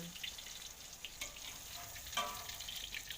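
Tofu fries in hot oil until golden brown and crisp, giving a steady, faint crackling sizzle with a few louder pops.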